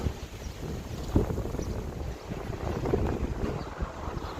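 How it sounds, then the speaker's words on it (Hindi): Strong wind gusting along a roadside in a hill village, with flags flapping on poles, heard as a steady rushing roar with wind buffeting the microphone and no speech. "रोड के किनारों पे जो ये झंडे लगे हुए हैं वो हवा में देखो कितना प्यारे लहरा रहे हैं"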